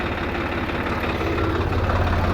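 A tractor that had been stuck in the mud runs after being freed. Its engine gives a steady, loud, rumbling idle, close by and alone, with no talk.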